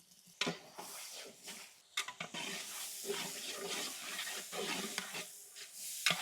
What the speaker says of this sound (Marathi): कांदा आणि टमाटर व्यवस्थित परतून झालेले बघू शकता